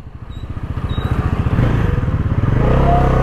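A Bajaj Pulsar NS400Z motorcycle revving up close, its pulsing engine beats quickening and growing louder into a dense, loud roar as it accelerates, with no talking.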